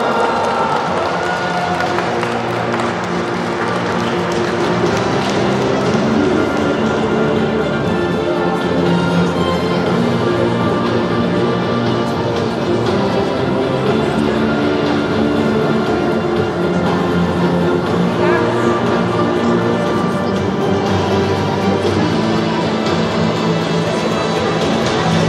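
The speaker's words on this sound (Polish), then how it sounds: "I również poprosimy o gorące brawa." Audience applause at the closing ceremony of the Dragon Tournament, a Europa League youth football event for players born in 2009, honouring fifth-placed team MKS Triumf Alvernia; steady, dense clapping from a crowd fills the whole stretch with faint cheering and voices mixed in.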